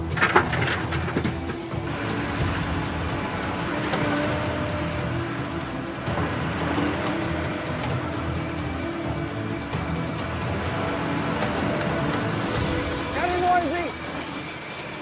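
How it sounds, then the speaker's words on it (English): A gold mine trommel runs with a continuous mechanical grinding and clattering, steady and close, with scattered knocks and squeaky tones, while people talk over it throughout. "Fire up the trommel."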